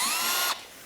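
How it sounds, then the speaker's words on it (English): A Milwaukee M12 Fuel 1/2-inch hammer drill driver runs with a high, loud motor whine close by, then cuts off abruptly about halfway through, leaving a fading low hum. "the 1/2-inch hammer drill driver"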